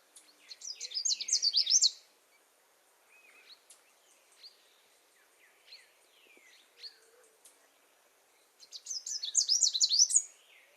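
Songbird singing in an overgrown canyon gulch in southeastern Arizona, with a lilting, Canada warbler-like phrase: two bright, rapid bursts of song at start and end, separated by fainter scattered chips and notes, clear against a quiet background.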